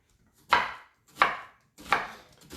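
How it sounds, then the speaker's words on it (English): An onion being chopped on a board, three distinct, crisp knife strikes spaced about 0.7 seconds apart, close and loud with silence between. "onion's almost cut up"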